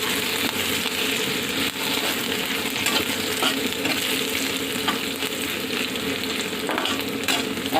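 Spices are tempered and frying in hot oil for a bottle gourd curry with shrimp, a dense continuous sizzle with occasional stirring clinks, close and steady throughout with no speech.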